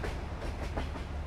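A long train rolls past in Farming Simulator 22, a steady rumbling clatter of rail cars with faint rhythmic clicks, close and continuous.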